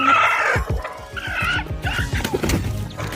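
Hen clucking close by among her chicks at a village coop, a run of quick repeated clucks with brief higher chick peeps mixed in, steady and fairly loud throughout.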